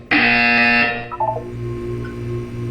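A loud electronic buzzer from the video game Portal 2 sounds as a harsh, steady tone for under a second, then gives way to a few short beeping tones and a low ambient hum.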